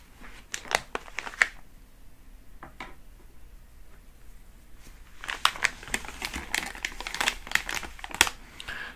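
Crinkly plastic handling as a resealable vegan gummy bag is opened with scissors in a quiet ASMR setting, with close, scattered rustles and sharp crackles that come in two busier bursts.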